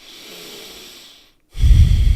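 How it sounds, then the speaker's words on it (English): Diaphragmatic breathing demonstrated at rest, drawing air from low in the belly: a long, soft, close inhale, a brief pause, then a loud, forceful breath out right at the microphone. "At rest, you're meant to do diaphragmatic breathing, which is where you breathe from down here."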